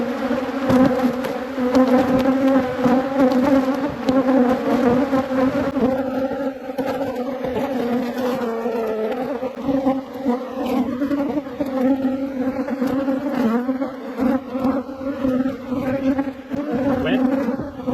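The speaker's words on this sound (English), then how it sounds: "a lot of bees swarming us" Honey bees swarming around beekeepers during a homestead honey harvest, producing a loud, dense, steady buzz close to the microphone for the full stretch, with occasional bumps and rustles of handling.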